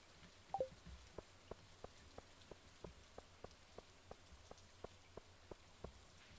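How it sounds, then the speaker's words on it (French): Rain in the video game Stardew Valley, a faint steady hiss with evenly spaced soft tapping drops roughly every quarter second and one brighter chime near the start. "il pleut beaucoup"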